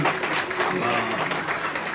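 Wedding guests clap together in thanks to God, a brief burst of group applause with voices mixed in beneath the clapping.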